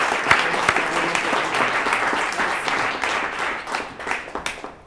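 An audience at a brewery talk breaks into full, sustained applause, a thick wall of clapping that holds steady and then thins toward a few last claps at the end.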